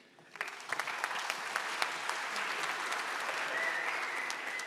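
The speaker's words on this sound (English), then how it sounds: "A round of applause for him." Conference audience clapping for a lightning talk speaker, starting from near silence and swelling into steady, moderately loud applause that carries on to the end.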